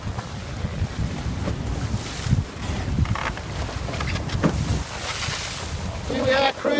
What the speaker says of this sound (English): I'm sorry about the wind